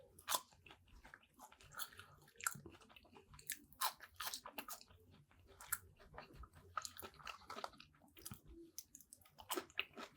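Crunchy chewing of fries with ketchup, close and intimate, with irregular bites and squishy mastication repeating steadily with no talking.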